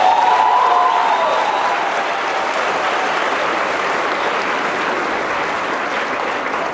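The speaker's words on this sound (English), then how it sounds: "I think she deserves another round of applause." Audience at a university speech gives a round of applause, dense steady clapping that fills the room and slowly tapers, with faint cheering.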